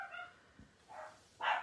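Several dogs bark indoors, excited by a delivery arriving at the front door: a few short, sharp barks in separate bursts, moderately distant and fairly quiet, with no talking.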